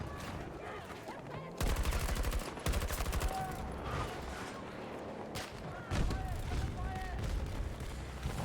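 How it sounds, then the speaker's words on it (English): Bursts of automatic gunfire in the Battlefield video game, loud sustained volleys in a few separate stretches over a busy battle bed, with a voice talking through parts of it. "Somebody's shooting"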